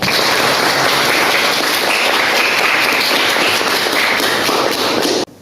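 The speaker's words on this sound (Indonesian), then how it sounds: "Sekali lagi beri tepuk tangan kepada beliau." Loud, dense applause from an audience at a school drama performance, continuous and close for several seconds before cutting off abruptly.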